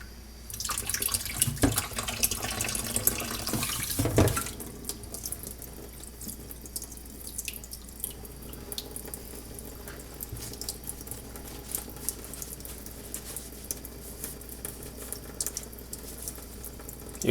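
Water from a tap runs over a honing stone, starting as a loud gushing rinse that cuts off after a few seconds and leaves faint drips and splashes alone.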